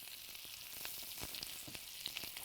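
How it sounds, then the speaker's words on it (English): Onions sauté in olive oil with a steady, close sizzle and crackle, broken by light stirring scrapes and small pops. "Saute your onions"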